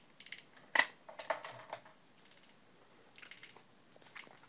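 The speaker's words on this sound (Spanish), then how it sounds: "vamos a escuchar cómo se oiría la sirena." A DSC alarm system siren, set off in a test, gives short high electronic bursts in a regular on-off pattern. It is fairly faint, with one sharp click early on.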